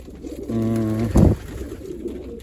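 A single pigeon coos in a low, throaty burst, followed by a short flutter or thump, close by with faint background noise.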